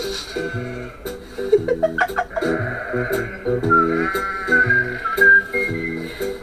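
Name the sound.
sheep bleating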